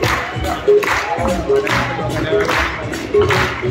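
An audience clapping along during a devotional song, steady rhythmic claps mixed with crowd noise while a voice continues over them.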